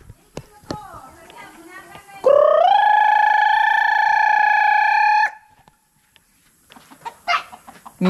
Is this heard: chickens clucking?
yes